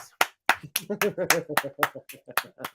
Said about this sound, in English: I would like to welcome with a round of applause the brand new member, Sadness Sunglasses